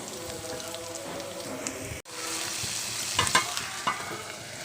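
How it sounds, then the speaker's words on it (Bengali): Jute leaves stir-frying with plenty of dried chilies in a home kitchen pan, a steady close sizzle broken by a brief cut and a few sharper scraping clatters of stirring. "এখনই হচ্ছে পাট শাক রান্না করব, মানে ভাজি করব। শুকনা মরিচ দিয়েছি বেশি করে।"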